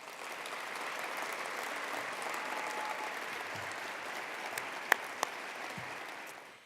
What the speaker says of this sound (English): Come on and give her a round of applause.